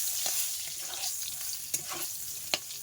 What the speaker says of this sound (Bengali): বেগুন ভেজে নেব আগে চার পিস বেগুন আগে ভেজে নেব